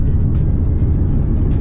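Inside a Kia Niro EV electric car accelerating on a highway, a loud, steady low rumble of road and motor noise runs continuously, with no voices.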